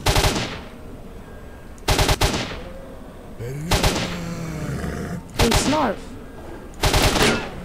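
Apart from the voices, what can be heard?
gunfire in the video game S.T.A.L.K.E.R.: Shadow of Chernobyl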